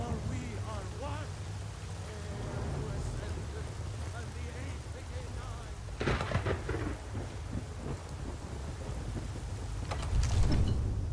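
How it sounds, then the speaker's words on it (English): A thunderstorm with steady rain in the Skyrim video game keeps up a dense wash of rainfall, with rumbling thunder swelling midway and again near the end while a voice talks over it. "Love how it's stormy and dark and gray outside"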